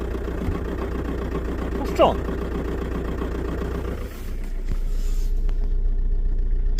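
A cold TDI diesel engine idles with a steady, rough low rumble, shaking and knocking close by, with a brief sharper rise near the middle and a slight drop in level before the rumble continues.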